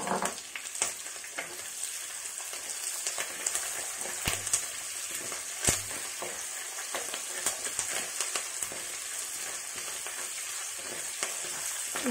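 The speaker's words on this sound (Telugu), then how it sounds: "జీడిపప్పు బాగా వేపాయి" Cashew nuts fry in a pan as part of a mushroom curry. A continuous close-up crackling sizzle is punctuated by a couple of sharp clinks of a utensil against the pan.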